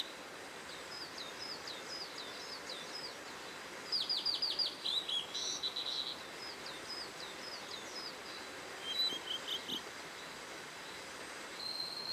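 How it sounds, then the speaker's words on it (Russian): Clear, high song of a blue flycatcher in a forest, in short bursts of chirps and whistles over a constant low rumble, with quiet gaps between phrases. "Чистый звук разносится по лесу. Это синяя мухоловка."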